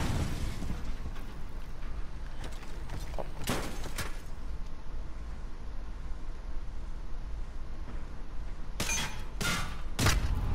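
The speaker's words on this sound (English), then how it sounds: "Grenade!" Grenade and gunfire in a chaotic shooter game: a constant roar of battle noise, a sharp burst near the middle, and a cluster of loud explosive cracks and booms toward the end.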